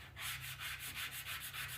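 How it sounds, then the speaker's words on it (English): Rhythmic back-and-forth sanding of body filler, a steady scratchy rasp repeating about eight times, close and moderately quiet over a low hum. "Sanding it down, obviously."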